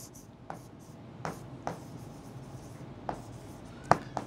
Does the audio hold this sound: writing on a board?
yes